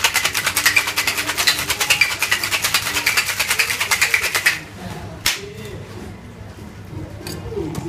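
Ice rattles hard in a cocktail shaker while a Hemingway Daiquiri is shaken, a fast, loud, regular rhythm of clacks for about four seconds before it stops and near-quiet follows.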